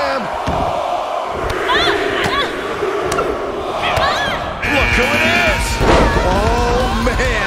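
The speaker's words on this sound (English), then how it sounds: "Just listen to the crowd." A wrestling crowd in the WWE 2K22 video game roars and cheers steadily during a Royal Rumble match, with thuds and slams and excited commentary over the top.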